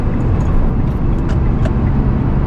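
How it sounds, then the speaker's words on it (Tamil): A car in fourth gear swerves out to overtake on a road, heard from inside as a steady, loud low rumble of engine and tyre noise without pause. "இப்போ அந்த கார் போயிட்டுருக்கு"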